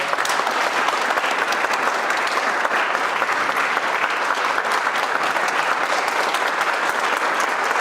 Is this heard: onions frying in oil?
no